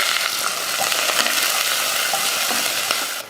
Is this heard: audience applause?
no